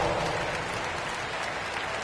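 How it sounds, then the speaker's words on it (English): Steady, dense applause from a large crowd, continuous and fairly loud throughout, with no voices standing out. "Give yourself a round of applause."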